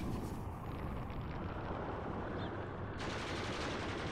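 Continuous rattling machine-gun fire and gunshots roll through a battle in an Iran-Iraq War strategy game, dense and steady at moderate loudness for the whole stretch.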